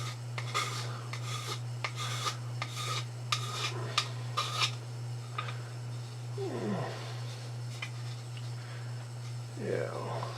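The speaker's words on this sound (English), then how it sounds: "And this insane amount of file work." Hand file rasping across a workpiece in a quick series of about seven gritty strokes, then fainter scraping, all over a constant low electrical hum with a few brief vocal sounds.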